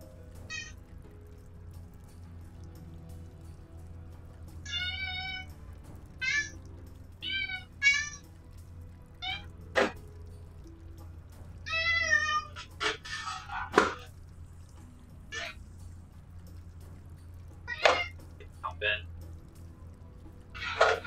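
Several house cats meow repeatedly before a feeding, their plaintive cries coming in short clusters over a low steady hum, with a few sharp knocks and clatters mixed in.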